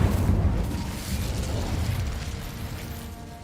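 A fire spell cast in the Hogwarts Legacy game bursts out loud and close, a sharp whooshing blast that swells at the start and then rumbles and crackles away over a few seconds with no voice over it.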